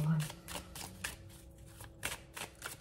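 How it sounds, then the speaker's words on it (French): Tarot cards are shuffled and drawn, with a series of quiet crisp flicks and slaps of card stock spaced through the clip while a person speaks softly over them. "je vais essayer de prendre deux dernières cartes"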